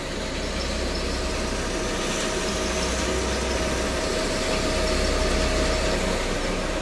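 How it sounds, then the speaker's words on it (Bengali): A tractor works a nearby field, its engine a continuous loud drone with a low rumble and a faint steady tone, unbroken and with no voices. "মাঠে ওই যে ট্র্যাক্টর দিচ্ছে তো, ওই জন্য প্রচন্ড আওয়াজ আসছে"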